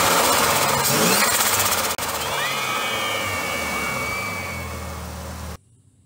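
A naturally aspirated Ford Barra six-cylinder converted to turbo, revving loudly close by in a garage, with a rising whistle partway through before the sound drops away near the end.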